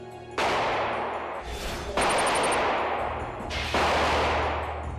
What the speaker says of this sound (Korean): 궁정동에서 울려 퍼진 총성으로